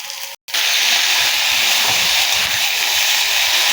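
A loud, continuous sizzle rises from a pan where a small-barb fish curry is sautéed with turmeric and salt; the hissing stays steady throughout after a very brief break near the start, with no talking.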